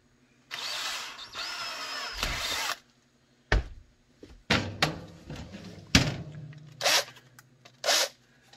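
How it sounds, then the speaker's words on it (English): A drill whirs close by for about two seconds while boring a hole in the center of a holster mount part, followed by scattered knocks, clunks and brief rustling handling noises. "what I'm going to do is drill a hole right in the center"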